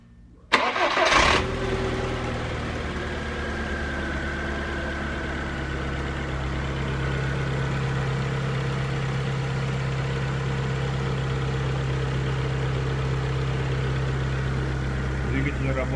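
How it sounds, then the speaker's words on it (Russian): A 2002 Skoda Octavia with a 1.6 eight-valve AEH petrol engine cranks briefly, catches and settles into a steady, even idle heard up close. "Запуск двигателя."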